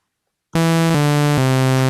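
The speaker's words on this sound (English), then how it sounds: "We had a sawtooth wave," Bright, buzzy analog synth sawtooth-wave tone starting abruptly after a brief silence, holding steady notes that step in pitch twice, loud and alone with no voices.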